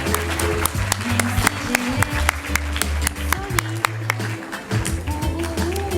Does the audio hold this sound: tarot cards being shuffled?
no